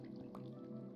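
Water dripping in a Minecraft cave, a soft single drip plunk over a low steady game ambience, faint and brief.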